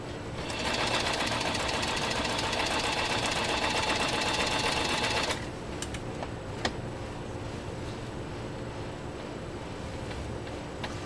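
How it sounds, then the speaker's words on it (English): A New Home 660 sewing machine straight-stitches through 10 oz leather at its longest stitch length, making a loud, steady, fast mechanical whir for about five seconds before it stops, leaving quiet room noise with one small click. "this is the largest stitch that this new home model 660 will put out from a straight stitch standpoint"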